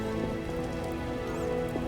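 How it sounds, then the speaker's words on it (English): Rain falling in The Witcher: Enhanced Edition, modded, in a city district, a steady close patter with scattered drips and faint tonal game sounds underneath, no talking. "Oh, when will this rain stop?"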